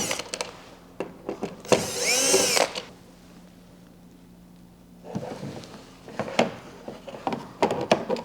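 A power driver whirs in short bursts while removing the power link plate from a PWR129 Xi3 bow, with a high whining spin-up, some rubbing and handling noises of tools and parts, and a quiet pause in the middle.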